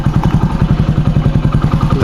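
A Bajaj Pulsar or Hero Splendor motorcycle rides along with its engine close and loud, giving a steady, fast, even thumping pulse throughout.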